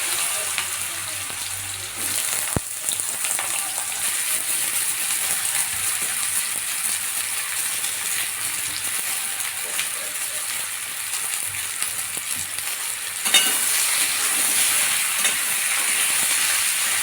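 Potatoes and a dried red chili fry in hot oil, a steady broad sizzle running throughout with a sharp click near the start and a brighter, louder surge in the last few seconds.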